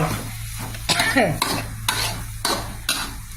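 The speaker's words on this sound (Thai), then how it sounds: "เราจะเอาขนุนที่เราต ำใส่เครื่องแกงพริกแกงค่ะ เอามาผัดไว้" Pounded jackfruit stir-fries with red curry paste in a pan, with a steady close sizzle broken by regular scraping strokes of the spatula about every half second.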